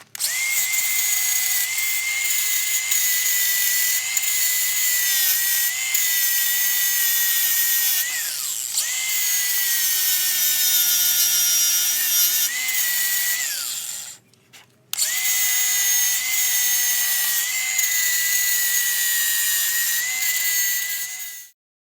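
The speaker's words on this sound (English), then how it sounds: "I gotta get the flapper disc and clean that up a little bit so it's not sharp" A flap disc on an angle grinder cleans up sharp metal edges on a 1969 Sears Suburban 12 garden tractor, a loud, steady high-pitched whine with a brief break near the end as the disc is lifted and reapplied.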